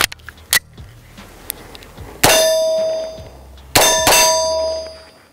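Bullets from a Beretta M9A1 pistol strike a steel armadillo target at a pistol range about 30 feet away, giving two loud ringing metallic clangs that decay slowly, with fainter ticks and clicks between them.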